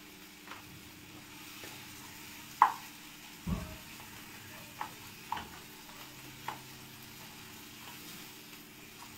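Water chestnuts being roasted and stirred in a pan in a home kitchen, with a faint steady sizzle and occasional scraping knocks of the spoon against the pan, no talk.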